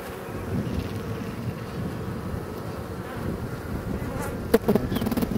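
Honeybees at an opened hive during the first spring hive check make a dense, steady buzz that fills the whole clip, close to the mic, with a few faint knocks near the end.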